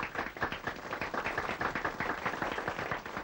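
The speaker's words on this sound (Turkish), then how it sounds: "Sen alkışlama lan." Rapid, steady clapping from a small group or a single pair of hands, a dense run of sharp claps at close range with no talk over it.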